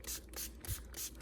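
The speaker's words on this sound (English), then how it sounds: "I'm going to spray it down really well." Pump spray bottle misting down a gecko enclosure, a series of short hissing bursts in a steady rhythm, close and fairly quiet, with no talking.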